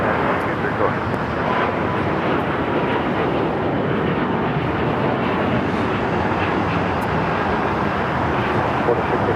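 A jet airliner taking off from a runway at LAX, heard as a loud, steady, broadband engine roar that stays constant throughout, with no speech.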